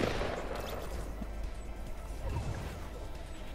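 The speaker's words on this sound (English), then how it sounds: "Mwingine anapiga sniper." A sniper rifle shot in the Fortnite video game, a sharp report at the start that decays into a rumbling tail over steady game noise, with no talk.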